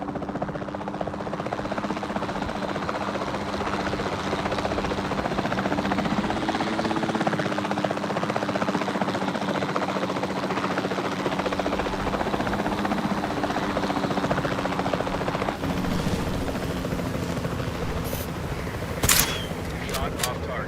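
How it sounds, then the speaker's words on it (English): Capture team helicopter in the video game Jurassic World Evolution 2, a steady rotor drone that holds throughout under in-game voices, with brief sharp clicks near the end. "Then the sensible thing is to take a capture team helicopter."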